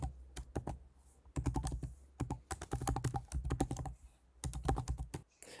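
Quick bursts of key presses on a computer keyboard as an email address is entered, clicking in rapid clusters with short pauses between, close and quiet with no talk.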